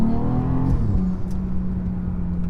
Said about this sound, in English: this car has the N55, which in my opinion is the best sounding 6-cylinder that BMW has ever made